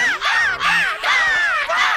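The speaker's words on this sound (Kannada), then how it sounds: "ಕಾಗೆ ಕಾಗೆ ಕಾಗೆ." Repeated harsh crow caws, loud and close, in several drawn-out calls with brief gaps, alone with no talk.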